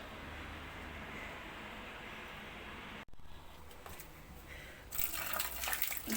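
Water being poured out and emptied, a soft continuous trickle that breaks off briefly, then resumes and swells into a louder splashing gush near the end.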